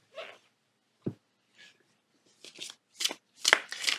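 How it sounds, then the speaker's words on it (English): A Dark Wood Tarot deck is shuffled overhand, giving short papery card slaps and riffling bursts that start sparse and come faster and louder toward the end. "Let's see how this shuffles in an overhand."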